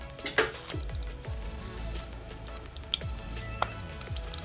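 A green chili drops into hot oil while cooking channa rice, crackling and sizzling close up with scattered sharp pops over a steady frying hiss.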